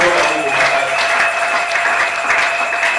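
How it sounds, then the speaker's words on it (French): A church congregation at a Sunday service cheers and applauds for the Lord, with loud, continuous clapping and crowd noise filling the room, along with a sustained tone and some voices mixed in. "Est-ce que tu peux acclamer très fort le Seigneur?"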